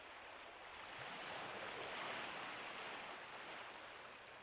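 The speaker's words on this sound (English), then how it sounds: "The only sound you hear is the crashing of the waves." Ocean waves crash in a scene from the video game Persona 4 Golden, making a steady, full wash of surf that swells slightly and then eases, with no voices over it.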